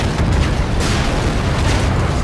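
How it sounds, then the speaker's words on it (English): Dense, loud booming and crackling blasts run together without pause, like continuous explosions, in the video game Call of Duty: Infinite Warfare. "All this destruction. All the explosions."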